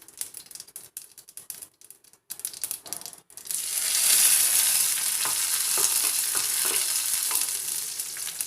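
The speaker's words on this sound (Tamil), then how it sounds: "கடுகு நல்லா கொஞ்சம் பொரிய ஆரம்பித்ததும் இந்த கருவேப்பிலையும் இந்த ரெட் சில்லியும் போட்டுக்கலாங்க." Mustard seeds, urad dal, curry leaves and red chilies crackle and spatter in hot oil, with sparse pops and stirring clatter at first, then a loud, steady sizzle swelling from the middle on, with scattered pops over it.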